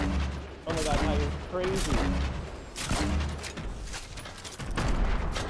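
Grenade launcher fire in a multiplayer shooter game: repeated heavy bursts and booms in quick clusters, loud and close, with excited voices talking over them.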